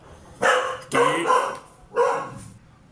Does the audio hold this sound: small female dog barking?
yes